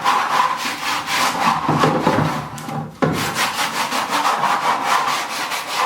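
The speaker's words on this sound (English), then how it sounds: "what I'm going to do is finish sanding this barrel here" Steady back-and-forth rasping of abrasive on the edge of a wooden barrel, loud and close, in a fast even rhythm with one brief pause midway.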